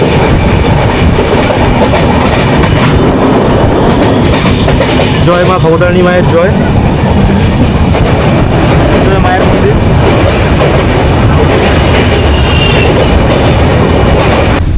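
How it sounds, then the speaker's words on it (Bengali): Sealdah–Puri Duronto Express (22201) passing Dakshineswar station, with a steady loud rumble of rail wheels and carriages throughout and brief clattering bursts, while people chant and talk over it. "এটা হচ্ছে দক্ষিণেশ্বর স্টেশনে এখন ক্রস করছে ট্রেন আমাদের"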